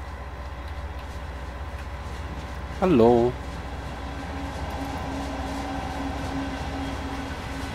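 A freight train rumbles past in Train Sim World 5 with a low, steady rolling drone that holds throughout. A voice briefly calls out partway through.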